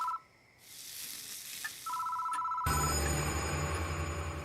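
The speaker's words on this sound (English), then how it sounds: "The phone is ringing." A telephone rings in the horror game Death Mark, short electronic trills that break off and resume before a louder tonal sting and eerie music swell in near the end.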